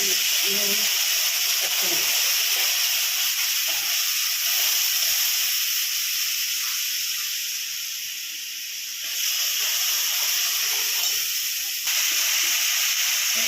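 Paste of ground cumin, coriander and chili powder sizzling in hot oil in a frying masala, a loud steady hiss that dips briefly before surging back, with faint stirring scrapes.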